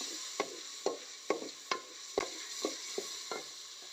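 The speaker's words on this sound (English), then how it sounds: "I'll now cook the tomatoes until they are cooked into a paste or until they are cooked into a puree" Tomatoes cook down in a pan during village cooking, a steady sizzle broken by regular stirring scrapes about twice a second, close and moderately quiet with no talking.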